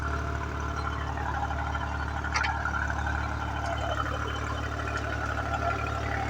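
A tractor works in a field during wheat sowing, its engine a low, steady, fairly faint rumble that holds throughout, with a few brief higher clinks over it.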